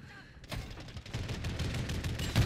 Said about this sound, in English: And the second time you pull it, it's going to fire off 2 rounds